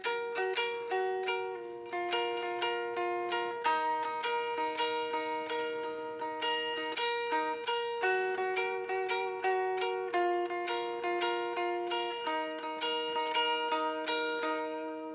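An electric guitar plays the lead part for the second verse of a song: a steady stream of clean picked notes in an even repeating rhythm, moderately quiet and close, with no voices.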